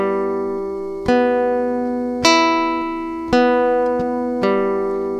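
Guitar strings plucked with the fingertip in a fingerstyle pattern ring out as five clear, bright notes about a second apart, each one decaying before the next, close and loud with no voices.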